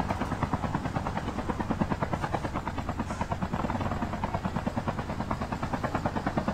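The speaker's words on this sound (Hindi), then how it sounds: "हाँ हेलीकॉप्टर में उड़ते रह जा" A helicopter in Call of Duty Mobile flies with a steady, fast rotor chop, a continuous rhythmic thumping that stays even and fairly close throughout.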